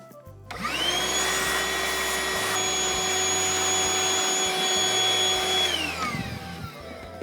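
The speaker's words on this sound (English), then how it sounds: "we can clean it either with that brush or with my vacuum" A vacuum cleaner spins up, runs steadily with a high whine for about five seconds while clearing coffee grounds from a Eureka Mignon grinder, then winds down; close and loud, with no voices.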